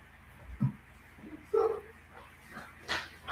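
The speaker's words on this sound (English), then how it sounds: "Is that a dog I hear in the background?" In the background a dog gives a few short, faint yips and barks spaced out over a few seconds, with low murmuring around them.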